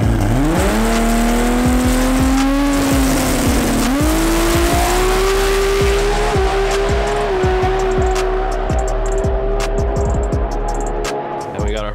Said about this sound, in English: Made the pass, let go of the button, and the car left.